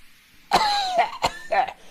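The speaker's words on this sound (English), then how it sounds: "The driver coughed through the billowing steam." A man coughs several times in quick, harsh bursts, loud and close, with a throat-clearing quality between the coughs.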